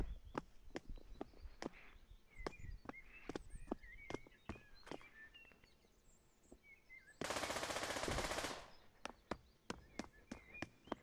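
Rapid bursts of AK rifle fire in the VR shooter Pavlov VR, sharp repeated shots in quick runs with pauses between, plus a loud sustained blast of noise partway through.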